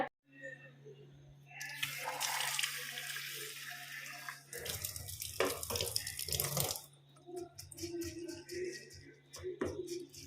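Water gushing from a tap for several seconds, loud and close, then tapering into splashes and drips, with a steady low hum underneath and a person talking faintly alongside.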